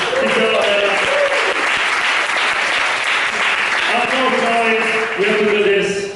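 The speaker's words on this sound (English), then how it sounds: "And that's a round of applause for Tiziano Labella" Loud, dense audience applause fills the whole stretch for a comedian, Tiziano Labella, at a Zelig comedy show, with voices and cheers rising through it near the start and again toward the end.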